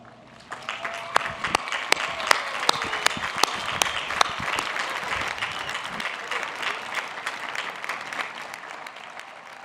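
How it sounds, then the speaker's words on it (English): A crowd at a university graduation ceremony for the Class of 2021 applauds early graduates, a dense, steady wash of clapping with sharp individual claps standing out, sustained and fairly near throughout. "Will those of you who are graduating early please stand so we can give you a well-deserved round of applause."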